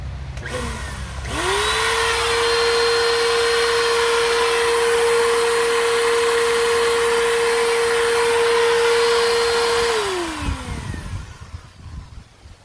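A Bissell Powerforce 2191 upright vacuum cleaner, a curbside find, switches on with a rising whine and runs steadily at a loud, constant pitch for about nine seconds before spinning down. No voices are heard.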